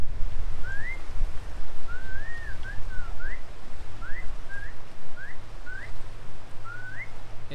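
A person at Alcatraz whistles to a seal below, giving a series of short rising whistles in an uneven rhythm over a low rumbling hum of wind or boat engine.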